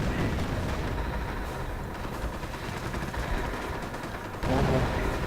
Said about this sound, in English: Heavy explosions going down.